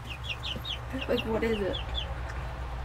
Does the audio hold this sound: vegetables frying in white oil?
no